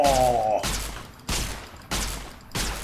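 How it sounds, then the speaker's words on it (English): A laser weapon in the video game Fallout New Vegas fires four loud, sharp blasts at a steady rhythm, each about 0.6 seconds apart. Each blast decays into a brief hiss, and a short tonal whine sounds near the start. "Basically the most powerful laser in the game."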